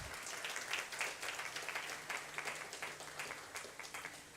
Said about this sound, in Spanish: Un fuerte aplauso también para ella, por favor.